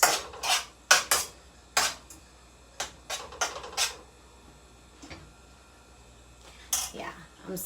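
Ingredients being mixed in a dish for a layered recipe: a series of loud, close clinks and scrapes of a utensil against the bowl, coming in irregular bursts with quiet gaps between them.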